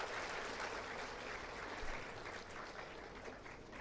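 Continuous audience applause for Nehal Gadhavi at a talk on women empowerment and family life in Gujarat, a dense steady wash of clapping at low level throughout.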